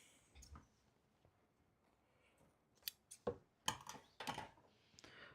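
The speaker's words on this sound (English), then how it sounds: "Where are my good fabric scissors? These are acceptable." Fabric scissors snip through fabric while a bustier is being sewn: a few sharp, separate cuts that start sparse and grow more frequent, close and crisp against a quiet room.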